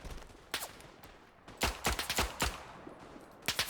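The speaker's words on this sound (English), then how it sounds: "Oh, I do love semi-automatic pistols though" Semi-automatic pistol shots in the World War I shooter Verdun: about seven sharp, separate cracks spaced irregularly, some in quick pairs, over faint battlefield background with no talking.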